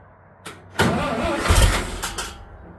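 An old red tractor engine is started with the choke on via its starter button: a brief crank, then the engine catches and runs rough and loud at close range, a low rumble with uneven bursts.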